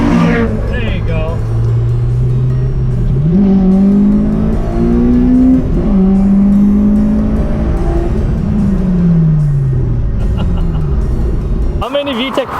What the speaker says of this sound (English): How many VTEC flyby that was?